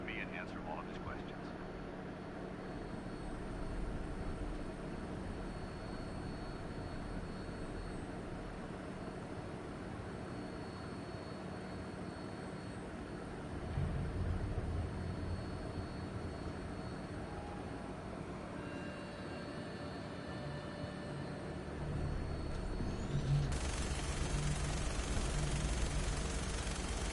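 Aircraft in the Fallout 4 video game on final approach to an airport, a steady droning engine rumble that holds throughout and grows slightly heavier toward the end, with voices speaking over it.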